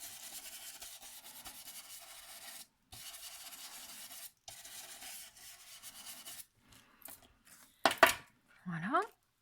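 A brush scrubs paint through a stencil onto a Christmas card with steady, soft rubbing strokes, close and quiet and broken by a few pauses. A few sharp handling sounds and a brief voice come at the end.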